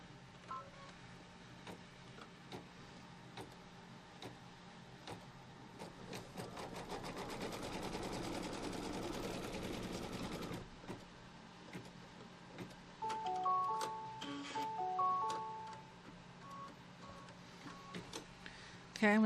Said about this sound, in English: Now it's gonna do a stitch from here, diagonal to the top